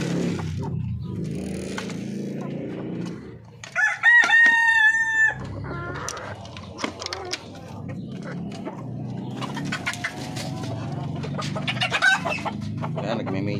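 Native darag chickens clucking around a backyard flock, with one loud rooster crow near the middle and scattered clucks and calls before and after, close by and alone.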